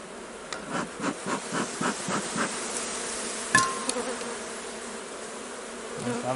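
Honeybees buzz around an opened hive during an inspection, a dense steady hum with individual bees droning past close to the microphone, plus a sharp knock of equipment midway.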